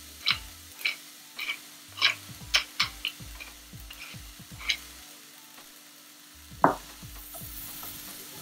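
Vegetables seasoned with salt and black pepper are sauteed in a pan for clear vegetable soup, with a low sizzle under irregular sharp clinks of a utensil stirring against the pan.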